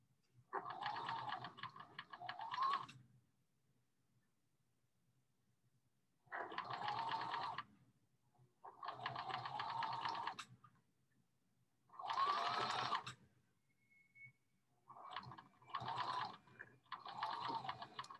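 Sewing machine running understitching on a costume seam in several separate bursts of steady fast whirring stitching, close and clear, with short silent pauses between runs.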